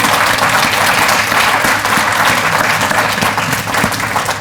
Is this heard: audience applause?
yes